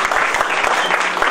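Studio audience at a German TV quiz show applauds steadily, with dense, close clapping that stays even from start to finish and no speech over it.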